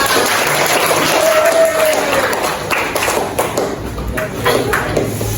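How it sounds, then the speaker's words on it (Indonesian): Classroom applause from students and participants at the close of a teaching-method simulation lesson, a loose patter of claps with scattered taps alongside a steady room murmur and occasional voices. "boleh tepuk tangan dong untuk kita semua"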